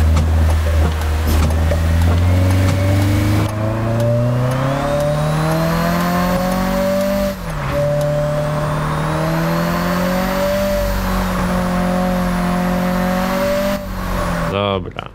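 A Toyota AE86 engine in a racing video game, droning loud and steady as it pulls through long gears, its pitch rising and falling with a brief dip at a shift, with a person talking over it.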